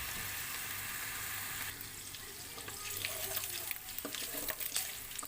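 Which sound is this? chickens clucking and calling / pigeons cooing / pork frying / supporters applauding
pork frying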